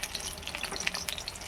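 Food frying in a small kadai gives a steady, close sizzling hiss dotted with sharp crackles and pops, with no talking.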